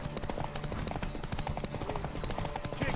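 A horse gallops in The Witcher 3: Wild Hunt, its rapid, steady hoofbeats running through a busy game soundscape at moderate loudness.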